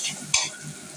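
Spices, including chili, sizzle in a frying pan while a utensil stirs them, with one sharp scrape against the pan over a steady close frying crackle.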